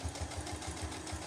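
A sewing machine stitches fabric at a steady fast rhythm, its motor humming under the even repeating clatter of the needle, close and moderately loud with no speech.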